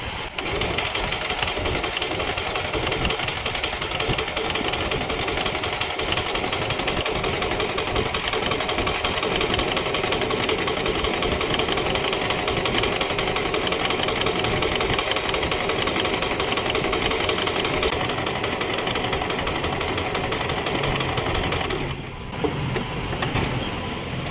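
An Usha Janome Stitch Magic sewing machine stitches a hem, a steady fast mechanical whir and needle rattle running close and continuous before cutting off briefly near the end.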